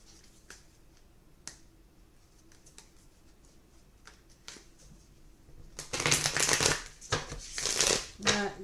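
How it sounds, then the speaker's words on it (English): A Nightmare Before Christmas card deck riffled and shuffled, quiet taps and clicks at first, then a loud burst of rapid flapping card noise near the end. "Let's try to shuffle a bit proper here."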